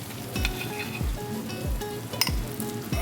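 Thick cobbler being spooned out of a crock pot, with repeated low scooping thuds about every half second and a light spoon clink against the pot, close up with no talk.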